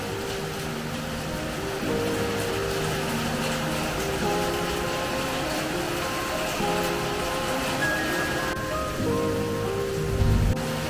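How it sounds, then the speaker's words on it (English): Tropical rain falls steadily in Florida, a dense, even hiss of drops on surfaces with a faint background hum and occasional muffled sounds. "rain of Florida."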